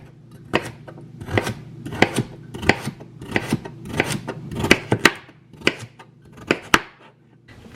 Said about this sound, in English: Big and fat this carrot is. I'm cutting it into 4 here.